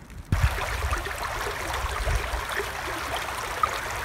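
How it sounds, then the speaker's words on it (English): Honey Creek at sunrise, running full at the edge of the Low Gap Nature Preserve in Morgan Monroe State Forest: a steady, close rushing of water with a constant broadband wash and a couple of soft thumps near the start. "Sunrise, and the creek is running full"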